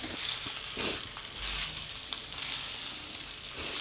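Macaroni with shallots and chili, moistened with a splash of water, fries in a large wok. It gives a steady, close, loud sizzle with bursts of crackle and stirring scrapes.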